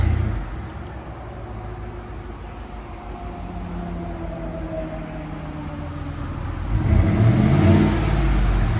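A 2019 Chevy Suburban 5.3 liter V8 with Flowmaster 40 series true dual exhaust rumbles at a steady idle, then revs up into a louder, deeper burble near the end, heard close without talking.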